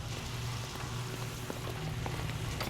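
Steady rain falls in the video game L.A. Noire on a cloudy daytime street, a constant dense wash of hiss with faint scattered drop ticks, fairly loud and unbroken.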